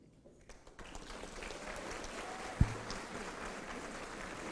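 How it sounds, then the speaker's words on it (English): Applause at a university master's hooding ceremony, with family members standing to honor their graduates, beginning faintly and building into distant, steady clapping with one sharp knock partway through. "giving a warm round of applause for those loved ones"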